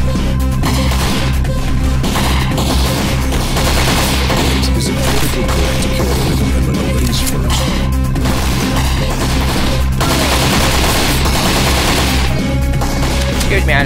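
Loud video-game gunfire in Postal III: rapid automatic bursts and single heavy shots crack and crash repeatedly over a constant background din, with no voices.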